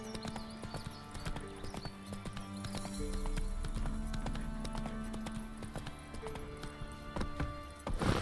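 Horse hooves gallop in the video game Witcher 3, a rapid, steady clip-clop close up over a busy game soundscape with music, and a brief whinny-like sound near the end.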